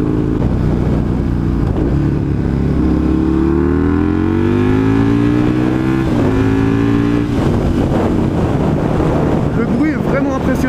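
A Husqvarna 900 Nuda motorcycle engine and exhaust revs loud and close, its deep droning pitch climbing and falling through repeated throttle blips, with heavy wind buffeting on the microphone.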